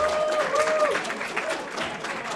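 An audience at a furry convention panel applauds with steady, dense clapping, while faint whoops and a few voices rise over it.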